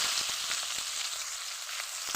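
Pieces of water taro are poured into hot oil already frying cumin seeds, dried red chilli and bay leaf, producing a continuous bright sizzle with small crackles and no speech.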